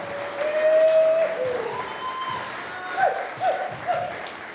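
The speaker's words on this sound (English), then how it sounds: "All right, how about another round of applause for Dr." Audience applause for keynote speaker Dr. David Palaita at a community talk series event, a steady wash of clapping with a few brief whistle-like tones rising over it.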